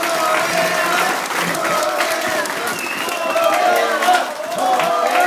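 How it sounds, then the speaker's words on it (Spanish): A crowd at a MORENA political rally in Tlapa, Guerrero claps and cheers to welcome Andrés Manuel López Obrador, a dense continuous wash of applause with a few shouts rising over it. "Recibámoslo pues con los aplausos más fuertes de ustedes"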